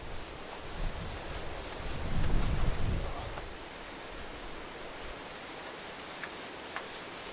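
A brush spreads outdoor wood varnish over the roof timbers of a tiny home on an abandoned Portuguese farm, giving a continuous soft scraping swish with one fuller stroke partway through, and no talking.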